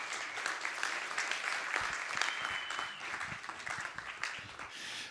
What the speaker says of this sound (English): Let's give applause to James.